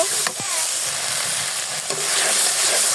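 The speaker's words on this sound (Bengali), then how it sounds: "সামান্য একটু আদা বাটা পেঁয়াজ বাটা এখন ভালোভাবে মিক্স করে নিব" Ginger paste, onion paste and cumin paste are stirred in sizzling oil, with a steady close frying hiss and occasional scraping strokes from the stirring.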